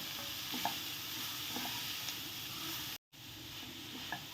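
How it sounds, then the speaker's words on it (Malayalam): Spinach (keera) sautéing in a pan, a steady soft sizzle with occasional stirring scrapes, close and continuous with a brief dropout, no voices. "അപ്പം അത് ഇടയ്ക്കിടയ്ക്ക് ഇങ്ങനെ ഒന്ന് വഴറ്റി കൊടുക്കാം."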